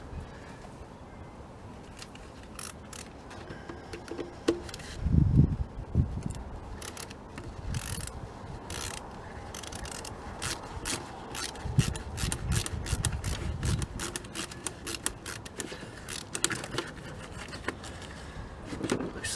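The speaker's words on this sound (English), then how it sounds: "Now I'm going to unscrew this here and then there with the flathead screwdriver." A flathead screwdriver unscrews a fastener on the throttle body of an Audi A6/A4 3.2 engine. Close, continuous scraping and grinding with rapid clicky ticks runs throughout, heaviest in the middle, with no talking.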